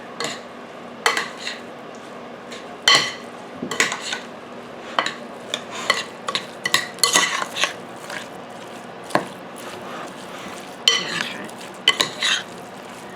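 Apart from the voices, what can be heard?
mixing cabbage roll filling in a bowl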